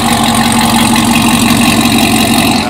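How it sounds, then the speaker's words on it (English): Chevrolet Camaro ZL1 with the 750 HP package idling up close, a loud, steady, deep rumbling burble with no talk. "Just listen to that. Oh my God, bro, that's idle."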